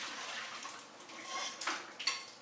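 Potato cooking water is poured from a saucepan through a strainer into a kitchen sink, giving a soft, steady splash and trickle with a few louder gushes near the end, heard alone at low volume.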